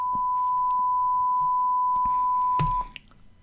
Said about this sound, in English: when I play the tone, which is loaded up in Audacity